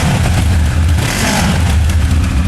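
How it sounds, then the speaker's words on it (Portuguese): A Benelli TRK 702 motorcycle engine starts and runs loudly and steadily up close, a low rumbling drone with a rough, constant texture and no talking. "ligamos a moto. Para meter a trabalhar, basta clicarmos no start. E o som que temos é este."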